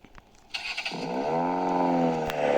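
A car in the Roblox video game starts up and drives off, its engine tone climbing in a rising rev that holds loud and steady after a few short clicks at the start.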